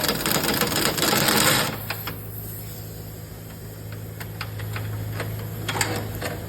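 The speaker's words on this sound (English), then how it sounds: "So I'm using the impact gun real slow so I don't rip my fingers off" An impact gun running slowly on a lower control arm bolt of a 2013-2020 Subaru BRZ. A dense mechanical whir cuts off after about two seconds, followed by a faint hum and light clicks nearby, with no talking.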